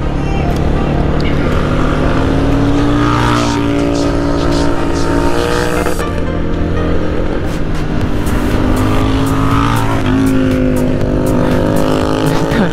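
Kawasaki Z900 motorcycle engine heard close while riding, loud and steady with rising and falling revs and repeated gear changes, with some talking mixed in.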